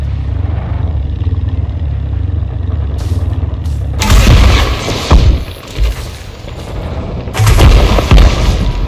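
Weapon fire in Elite Dangerous Odyssey, loud bursts of sharp shots and booms that start abruptly and come in clustered volleys, close and dominant over a low engine-like drone.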